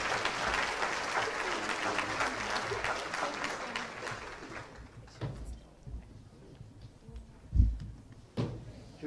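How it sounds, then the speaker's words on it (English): An audience at a volunteer tea applauds an education partners program, with steady clapping for about five seconds that then breaks into scattered thumps and small noises in a quieter room. "please give them a round of applause"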